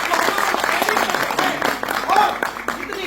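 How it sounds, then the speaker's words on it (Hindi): Applause from a crowd of trainees at a training batch event for a field officer, a dense burst of clapping close by that runs throughout, with voices mixed in. "एक बार जोरदार ताली सर के लिए।"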